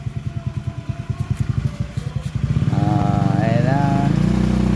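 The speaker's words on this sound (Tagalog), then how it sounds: "Ito talaga yung motor." A motorcycle engine chugs with a rhythmic, thumping idle, then rises into a steadier, louder running drone, close by, while a person speaks briefly over it.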